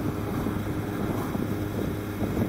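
Steady roaring wind buffets the rider of a Kawasaki Z1000 motorcycle fitted with a Zero Gravity windscreen, a constant broadband rush at highway speed with engine drone underneath and no speech.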